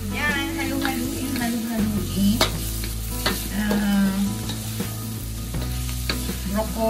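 Chop suey vegetables with oyster sauce stirred in a pan, a steady close sizzle with repeated scraping clacks of the utensil against the pan.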